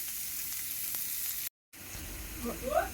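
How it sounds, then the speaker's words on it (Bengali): Chopped onions frying in a pan until browned make a soft, steady sizzle, broken by a brief silent gap partway through. "পেঁয়াজটা লাল লাল করে ভেজে নেব।"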